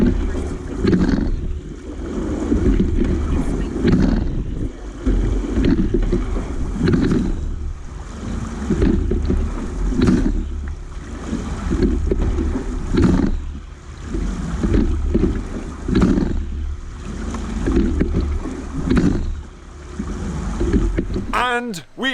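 A team rowing boat moves across flat water, with rhythmic swells of oar strokes and water rushing in regular pulses under wind buffeting the microphone.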